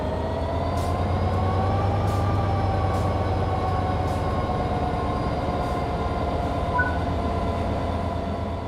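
A train in the Train Simulator 3 game accelerates under power, with a steady loud drone of traction motors and rolling wheels, a faint rising whine and light periodic clicks from the track.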